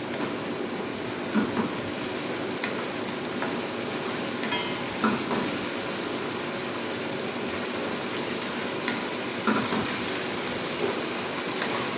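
Chopped onions sizzle in a hot pan over a raised flame for aloo palak, a steady hiss with faint pops and the occasional scrape of stirring. Close and continuous, with no voices.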